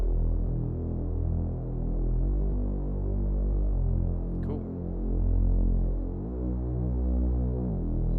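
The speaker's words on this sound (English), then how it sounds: "you can start hearing the gliding between the notes" A buzzy saw-wave synth bass in Serum plays a sustained melodic line, portamento gliding smoothly from one note to the next, loud and steady with a brief spoken word midway.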